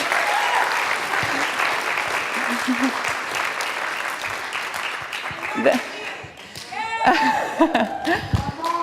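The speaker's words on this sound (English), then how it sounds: "applause for these ministers" A church congregation applauds its ministers at the close of a Unity service, dense clapping filling the room steadily, with voices rising over it near the end.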